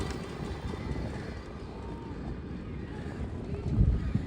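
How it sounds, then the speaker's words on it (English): Steady wind buffeting an outdoor microphone on a breezy day in Brooklyn, New York, a continuous low rumble that swells into stronger gusts near the end, with no voices. "pretty windy day here in New York"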